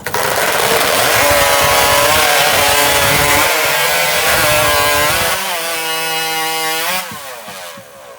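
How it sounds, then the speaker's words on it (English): Several chainsaws roar at full throttle cutting through timber at a timbersports championship qualifier, loud and continuous, with pitch shifting as the blades bite, then easing off near the end. "Got a live saw, guys."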